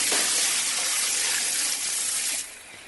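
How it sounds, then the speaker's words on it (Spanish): A bucket of water is dumped onto flames as a radio drama sound effect, giving a loud, continuous rushing gush that eases off near the end. "Decididamente cogí un cubo de agua que vertí sobre las llamas."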